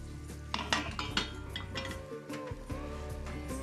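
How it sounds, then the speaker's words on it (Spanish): A frying pan set on the stove with no fat, giving several metallic clanks, clinks and scrapes of cookware close by, fairly faint and irregular. "Sartén al fuego sin materia grasa."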